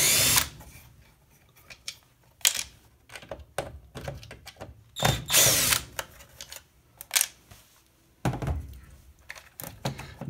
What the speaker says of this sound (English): Now you take these other 2 screws out.